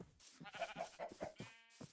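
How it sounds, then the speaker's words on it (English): Several short sheep bleats from Minecraft repeat in a quick uneven series, faint and close, with no talking over them. "Hey, sheep."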